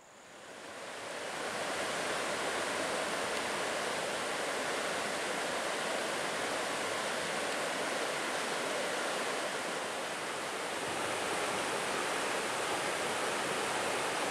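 A river rushes steadily, with a seasonal waterfall on the far bank adding to the broad, continuous roar of water at Big South Fork, loud and unbroken throughout with no voices.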